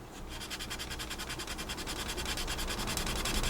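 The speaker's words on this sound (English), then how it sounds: "A mini sanding stick is probably a good idea because we are getting quite tiny here." A mini sanding stick rubs quickly back and forth on a small plastic part of a 1/35 scale Trumpeter Challenger 2 tank model, giving a faint, close, rapid scratching rhythm with no talk.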